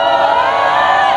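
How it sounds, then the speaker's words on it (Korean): A crowd at a protest rally outside a government complex shouts and cheers loudly in one sustained burst of many voices. "안타까우면 함성을 지르고 목소리를 높여서 외쳐주시기 바랍니다"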